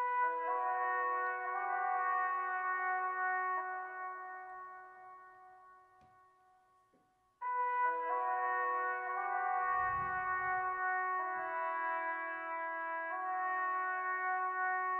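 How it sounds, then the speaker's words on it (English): A dark ambient melody of sustained layered synth tones, filtered thin by a radio EQ preset and washed in cathedral reverb, fading out then returning with a low rumble partway through, no voices. "the two effects I added was this radio preset from EQ2 and some cathedral reverb to add some ambience"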